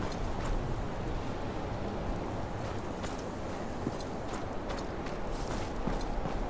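Steady clip-clop of horse hooves in the game Game of Thrones Kingsroad, a continuous close trotting rhythm over a constant wind-like background with no talk.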